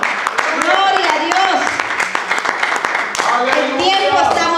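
Church congregation applauding during a Spanish-language service, a dense, continuous patter of clapping mixed with voices calling out and a speaker talking over it.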